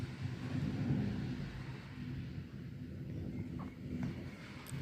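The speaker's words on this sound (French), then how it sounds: "orage fort" Thunder from a strong, very electric thunderstorm in Linselles on 11 May 2021, heard as a low, continuous rumble that swells and fades over several seconds, with faint crackles, recorded outdoors with no talking.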